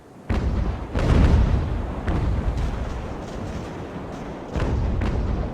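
Cannon fire from an Age of Sail naval battle game, with deep booming shots and rumbling blasts repeating irregularly over a continuous low roar.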